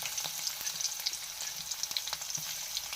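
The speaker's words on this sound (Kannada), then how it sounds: "ಬೆಳ್ಳುಳ್ಳಿ ಹಾಕೊಂಡು ಸ್ವಲ್ಪ ಬೆಳ್ಳುಳ್ಳಿ ಎಣ್ಣೆದೊಳಗೆ ಫ್ರೈ ಆದವು" Garlic frying in oil in a home kitchen pan, a continuous crackling sizzle dotted with small pops and occasional stirring clicks, fairly quiet and without voices.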